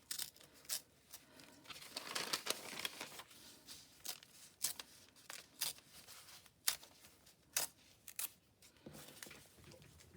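Paper is torn into bits for collage while embellishing a journal, with close, quiet ripping and crinkling in irregular bursts spread across ten seconds and no talk.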